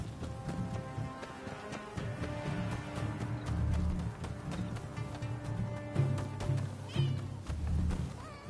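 A cat meows in the video game Rise of the Ronin, heard over a steady bed of game music and ambience with no speech.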